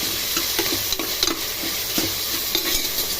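Onions and tomatoes sauté in a pan, with a loud, continuous sizzle and rhythmic spatula scrapes and knocks against the metal every half second or so, close up and with no speech.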